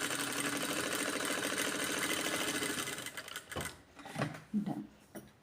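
A sewing machine runs fast and steady while sewing practice stitches for about three and a half seconds, then stops, followed by a few soft handling knocks and rustles.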